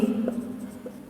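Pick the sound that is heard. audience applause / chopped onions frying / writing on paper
writing on paper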